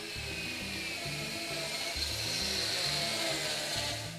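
Bosch PKS 10.8 LI cordless circular saw cutting through material, a steady close, loud whine with a pulsing low drone held for the full four seconds, no voices.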